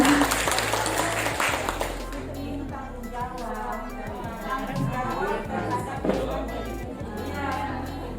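Teachers in the audience at a school workshop on positive culture applaud steadily for several seconds, a dense wash of clapping with low hum and some murmuring underneath.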